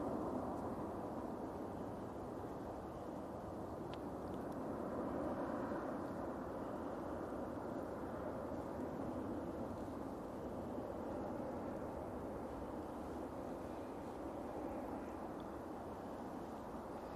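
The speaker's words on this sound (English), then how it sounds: "Let's just let this KLM come in." A KLM airliner comes in to land at Manchester Airport, heard as a distant, steady low jet roar and rumble sustained throughout with little change in level.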